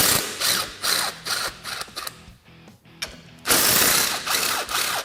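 A hand ratchet removes a 10 millimeter bolt from a bracket on a Polaris General during a radiator install, bursts of rapid clicking in several close, loud runs separated by short pauses.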